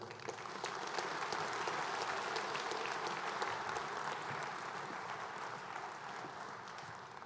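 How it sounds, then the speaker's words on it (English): Sustained applause from a lecture audience honoring a retiring deputy commandant, a steady dense wash of many hands clapping throughout without a break. "So I want us to give her a round of applause"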